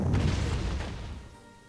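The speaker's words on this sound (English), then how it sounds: "this anti-tank cannon is so good." A single heavy boom from an anti-tank cannon firing in the World War II strategy game Panzer Corps, loud at the start and then rolling off into a fading low rumble.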